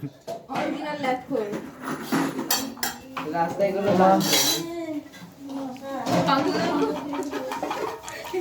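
Metal dishes, pots and pans clatter and clink at an outdoor New Year picnic, close and busy beneath people talking, with birds faintly audible in the background.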